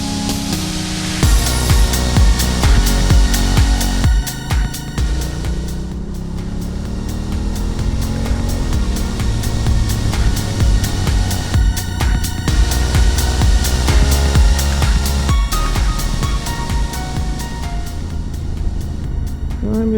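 A brand new Honda CRF1000 Africa Twin motorcycle being ridden, its engine droning loud and steady with rising and falling revs through gear changes, overlaid by heavy wind rush.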